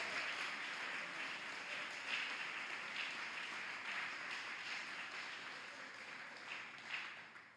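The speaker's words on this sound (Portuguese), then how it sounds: "Pode aplaudir o Senhor." A church congregation applauds in praise, a fairly faint but continuous wash of many hands clapping that runs without break and tapers at the end.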